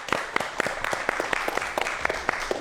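Audience applause in a Korean science lecture hall as a speaker is introduced: scattered, moderately loud claps with distinct individual hits over a steady wash, lasting a few seconds.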